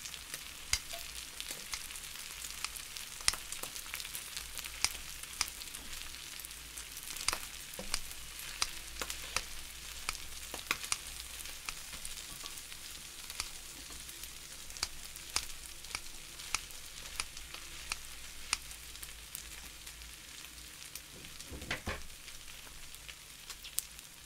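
Chicken neck meat sizzling steadily in a hot pan, a continuous crackling hiss with small pops throughout, close by and with no voices.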